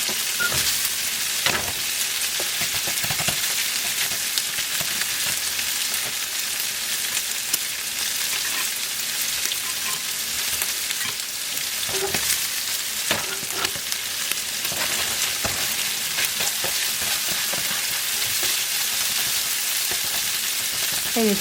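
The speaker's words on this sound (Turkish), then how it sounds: "ara sıra karıştırarak kontrollü bir şekilde fazla kurutmadan pişirelim" Liver frying in olive oil and butter with spices, sizzling steadily and loudly up close, with occasional scraping and clinks as it is stirred.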